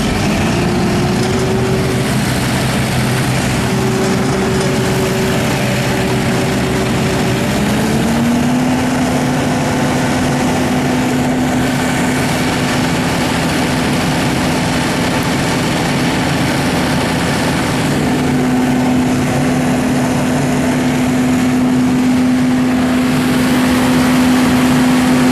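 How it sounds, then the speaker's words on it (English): A loud engine on a 2007 Finn B70T trailer-mounted straw blower drones steadily throughout, its pitch climbing into a higher, sustained rev partway through, with no talking. "We're going to fire the motor,"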